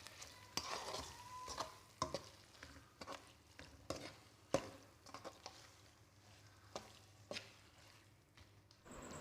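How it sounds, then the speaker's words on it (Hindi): Beef brain fries quietly in a pan while a spoon stirs and breaks it up, soft sizzling broken by repeated sharp clicks and scrapes of the spoon against the pan. "पकाते हुए चम्मच मुसलसल हिलाते रहें ताकि मगज़ अच्छे से फ्राई हो जाए"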